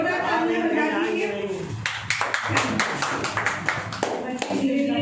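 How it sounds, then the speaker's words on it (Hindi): An audience at a Teachers' Day program run by students breaks into scattered, lively clapping after a voice, the claps loud and close in an uneven patter. "जोरदार तालियां बजा दीजिए।"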